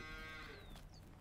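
A single cow lows in the Farming Simulator 19 video game, one short close moo over a steady low farm-machinery hum, with no voices.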